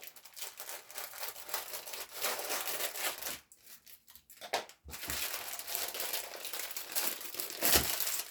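Crinkly plastic wrapping of a Panini FOOT 2021-2022 sticker starter pack being torn open and crumpled close up, a steady rustle broken by a short quieter pause, then a louder crinkling burst near the end, with no talking.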